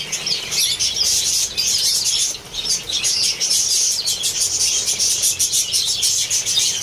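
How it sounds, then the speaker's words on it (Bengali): Pet birds in a netted enclosure, excited by egg food, make a loud, close, continuous chorus of overlapping chirps and squawks that barely pauses. "অলরেডি পাখিগুলো চেঁচামেচি শুরু করে দিয়েছে"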